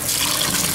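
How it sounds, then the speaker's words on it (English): Tap water runs steadily into a sink while hands are washed beneath it, a continuous close hiss and splash with no talking. "first thing, I need to wash my hands"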